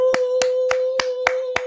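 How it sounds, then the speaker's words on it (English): A few sharp hand claps ring out at an even, steady rhythm, about six in quick succession, close and clear over a constant humming tone. "let's give him a big round of applause"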